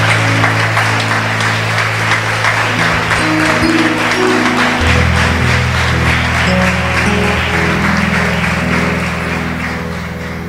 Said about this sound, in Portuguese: Vamos aplaudir a palavra do Senhor com alegria.